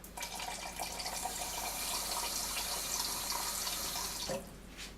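Water runs into a container to dilute sludge, a steady close pour for about four seconds that then stops abruptly.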